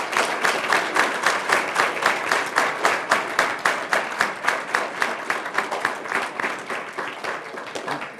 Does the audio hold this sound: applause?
yes